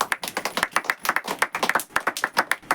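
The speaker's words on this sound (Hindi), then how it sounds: "एक ताली जोरदार हो जाए उनके लिए" A church congregation claps in a steady, rhythmic beat, many hands striking together in quick, even pulses that sound close and full.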